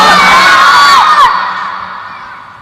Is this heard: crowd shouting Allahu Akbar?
yes